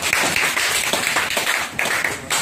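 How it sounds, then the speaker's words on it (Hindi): Quick loud bursts of clapping fill a mobile-phone repair shop, people applauding a technician in short uneven waves with no talk over them. "चलिए इनके लिए जोरदार ताली बजा दो।"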